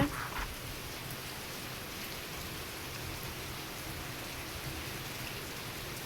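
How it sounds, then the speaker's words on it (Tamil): Rain and fine drizzle hiss down in a steady, even wash of sound, close and fairly loud, with no voices. "மழை சாரல், நிற்க முடியல, மூஞ்சிலேயே சளீர் சளீர்னு அடிக்குது"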